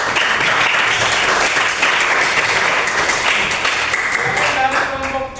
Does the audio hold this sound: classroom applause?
yes